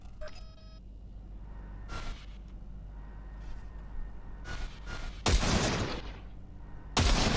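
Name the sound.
gun fired in bursts in the video game Cyberpunk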